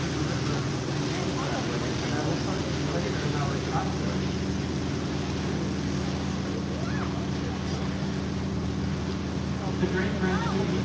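A boat motor drones steadily with a low engine hum as the boat cruises out of Old Sacramento on the Sacramento River, wind and water rushing around it, and faint voices occasionally in the background.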